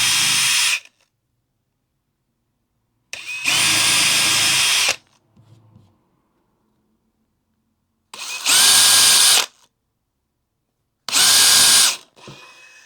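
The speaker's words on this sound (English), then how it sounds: "Just going to drill the screw holes out." Power drill boring screw holes in wood for a Little Free Library build, three separate close, loud bursts of whirring with short gaps of silence between them.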